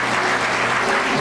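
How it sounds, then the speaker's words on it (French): A crowd claps loudly for the year's pioneers at a centenary celebration in Banfora, producing a brief, dense burst of applause with a low hum underneath. "j'aimerais qu'on les applaudisse très fort, mesdames et messieurs, pour ces pionniers de l'année."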